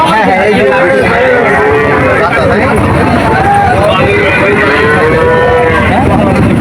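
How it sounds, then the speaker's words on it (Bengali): At the Shahapur cattle market, cows and calves moo loudly and repeatedly in long drawn calls over a dense crowd of people talking. "এটা শাহাপুর গরুর হাট"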